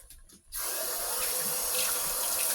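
Tap water runs steadily into a kitchen sink over fresh mushrooms being rinsed, starting abruptly after a brief quiet moment and continuing as a loud, even, close rush.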